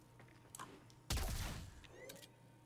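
A single charged weapon shot in Warframe, with the fire rate lowered and the weapon recharging fully between shots, lands as one loud, sharp blast that decays slowly, with faint mechanical clicks before it.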